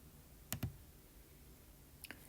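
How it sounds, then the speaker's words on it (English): A computer mouse clicks a web page button, giving two quick sharp clicks close together and then another faint pair a moment later, all against quiet room hiss. "I'm going to go ahead and click personalize."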